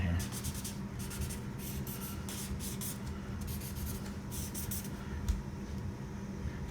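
A pen scratches across paper in quick bursts of strokes while sketching a perspective drawing, close and fairly faint over a steady low room hum.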